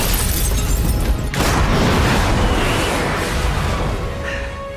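Supergirl smashes through an elevator and several building floors in a film scene: a dense, loud roar of crashing debris and rumbling destruction that swells after a brief break, then slowly thins out.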